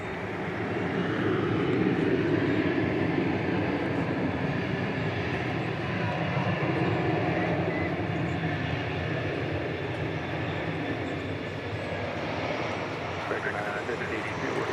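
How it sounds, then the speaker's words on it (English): An Airbus A321 arriving at DFW Airport as Flight 1663 from Los Cabos, Mexico, its engines producing a steady, broad roar that holds throughout, with a voice talking over it. "our next arrival is Flight 1663 from Los Cabos in Mexico. So another international arrival, being Airbus A321"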